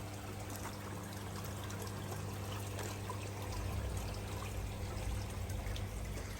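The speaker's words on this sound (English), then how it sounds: "Trickling is back on now" Water trickles steadily into a koi pond, a soft continuous splashing and dribbling that grows slightly fuller partway through, with a low pump-like hum underneath.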